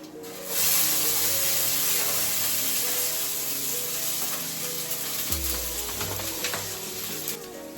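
Chopped onion, tomato and chilli hitting a hot pan, a sudden loud hiss of sizzling that stays steady and close for several seconds with a few stirring scrapes.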